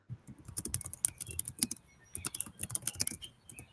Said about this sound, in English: Okay, she's typing